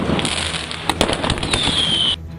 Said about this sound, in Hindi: उन्होंने उस पर पटाखों से हमला करना शुरू कर दिया